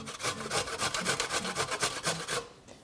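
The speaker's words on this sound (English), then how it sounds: "I just leave the skin on it and we just grate it up." Fresh turmeric root, skin left on, rubbed against a grater in quick rhythmic rasping strokes, about a dozen close and steady scrapes before it stops.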